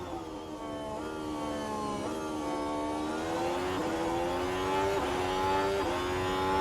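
A Formula 1 car engine in F1 Manager 24 screams on a flying lap around Jeddah, its high whine rising and dropping through gear changes, steady and fairly close with no talk.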